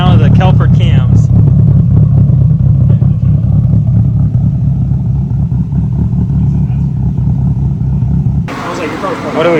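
Turbocharged 2005 Subaru STI engine fitted with Kelford cams, revving hard and sustained close to the microphone for about eight seconds, with a rough, throbbing low drone before it cuts off and a voice speaks.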